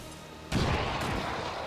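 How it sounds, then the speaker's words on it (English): An AP grenade detonates in XCOM 2: after a quiet half second, a single loud, close blast bursts in and trails off into a long, rumbling decay with scattered debris. "All right, AP grenade."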